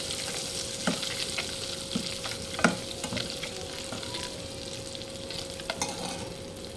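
Eggs frying in a pan with chilli powder and salt, a steady close sizzle with occasional stirring scrapes and small pops, no voices.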